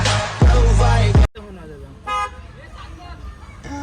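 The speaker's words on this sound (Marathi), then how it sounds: "चला आता हॉर्न वाजव" A car horn sounds in two long blasts, loud and close, followed by a shorter toot amid light chatter inside the car.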